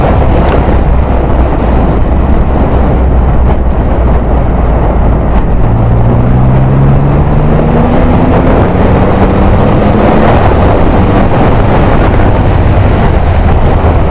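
A Triumph Rocket 3 GT or Storm motorcycle engine under way, a loud steady low drone with wind buffeting, caught on a mic inside the rider's helmet, with rising and falling tones as the bike changes speed midway.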